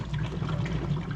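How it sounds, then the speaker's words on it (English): Water from a pump filling a fish tank, a steady, close-up gush and splash running without a break through the brief moment, with no voices. "Water's coming in."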